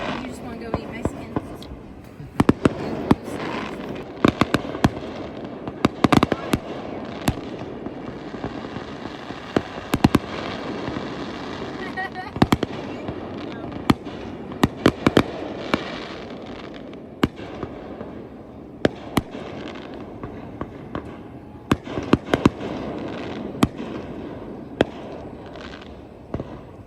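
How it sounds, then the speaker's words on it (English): Fireworks burst over and over in a long outdoor display, sharp booms and crackles landing in irregular clusters at varying distances, while family members chat in the background. "Look at those fireworks, Goose man."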